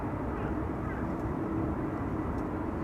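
A 17-year-old Cargolux Italia cargo airplane on flight 315 at Amsterdam Schiphol Airport gives off a loud, steady, broadband engine roar that holds level without a break.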